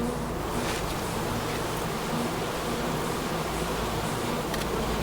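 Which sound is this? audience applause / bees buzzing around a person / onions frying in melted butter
bees buzzing around a person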